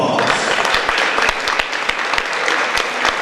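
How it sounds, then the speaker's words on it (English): An audience at a radio station's anniversary gala applauds the staff, a loud, dense burst of many hands clapping with sharp individual claps standing out, continuing steadily throughout. "So let's give them a round of applause."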